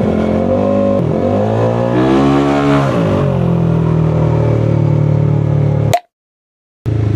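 A motorcycle engine revs loudly and close, pitch rising and dropping in several swells with a whining, strained tone, then cuts abruptly to silence before resuming.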